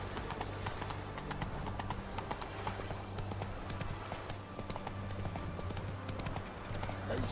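Rhythmic clip-clop of horse hooves at a steady riding pace in The Witcher 3: Wild Hunt, continuous and fairly close under low ambient game music, with no talk.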